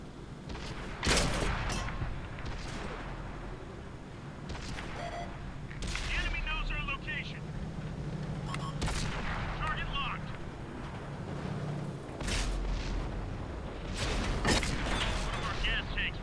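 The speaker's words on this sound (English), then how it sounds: "Ooh, an artillery goes for me." Artillery fire in the World of Tanks console game: several loud booming blasts and mechanical clanks spread over a low rumble, with someone talking throughout.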